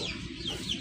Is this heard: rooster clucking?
yes